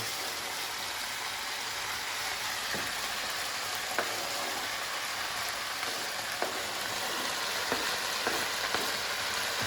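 Carrot and onion sautéing together in a pan for a bulgur dish with vegetables and meat, a steady close sizzle with occasional soft clicks of stirring, no talking.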